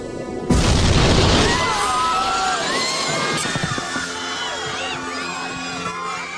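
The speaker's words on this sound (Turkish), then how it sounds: "çift pervaneli Alman torpili Lusitania'ya baş kısmına yakın bir yerden sancak tarafından isabet ediyor" A German torpedo explodes against the Lusitania's starboard bow in a sudden loud boom that rolls into a long sustained roar, with crashing debris and faint crowd-like cries mixed in.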